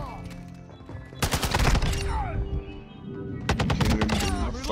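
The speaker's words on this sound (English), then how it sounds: "I'm just turning the corner and he's already shooting me" Rapid gunfire in a video game, with dense bursts of shots that come in two clusters over loud, busy game sound.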